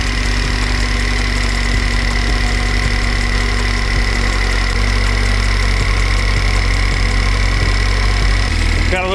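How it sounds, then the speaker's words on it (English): Pontiac Solstice engine running after an oil pump replacement, a loud steady idle with a constant drone and faint ticking, holding evenly throughout before a brief change at the end. "we're gonna hook up the plugs and see if she'll start"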